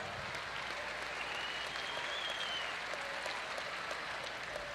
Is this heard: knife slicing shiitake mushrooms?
no